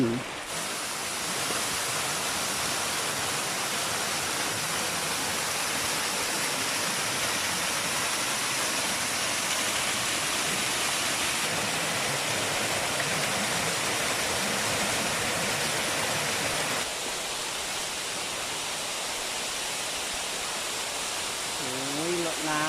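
Small Mo Paeng Waterfall in Pai, Mae Hong Son, running low, pours in a steady, full, close-up rush of water that holds constant throughout with no break.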